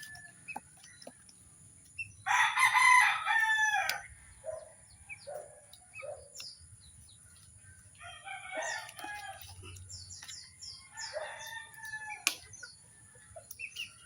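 Chickens and a rooster at feeding time, with a loud burst of crowing and clucking followed by scattered softer clucks and calls from the flock, close by with no talk.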